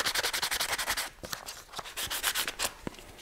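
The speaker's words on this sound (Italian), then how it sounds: "Anche qua bisogna grattarlo." Sandpaper of 400 grit rubs rapidly back and forth across the front of a plastic phone holder, a close, steady scratching rhythm that pauses briefly and then resumes with short strokes.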